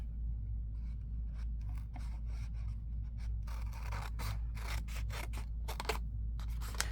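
Scissors snip through a scrap of paper being cut for a card backing, a run of crisp, close cuts in quick succession over a steady low hum.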